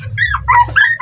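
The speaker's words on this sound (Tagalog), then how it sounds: "Pagpasensyahan po niyo yung maingay mga kabans ng mga tuta." Newborn puppies from a recently whelped litter whimper and yip in a home setting, with several high, wavering cries overlapping in quick succession, close and fairly loud, and no talking.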